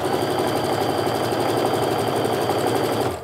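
Sewing machine stitching a quarter-inch quilt seam, a fast, steady mechanical whirr with a rapid needle rhythm, loud and close, running continuously before easing off at the very end.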